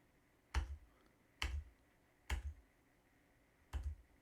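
Tab and Shift Tab keys are pressed on a keyboard: four crisp, isolated clicks spaced about a second apart, close and fairly quiet, with no talking.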